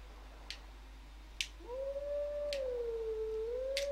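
A wolf howls in the Zelda Twilight Princess video game, one long rising and wavering tone that starts partway in and holds steady, with a few faint clicks before it, alone with no talk.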